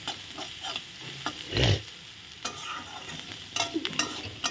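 Lentils frying in a pan with turmeric and salt, a soft close sizzle with occasional stirring scrapes and one louder burst of spatula clatter near the middle.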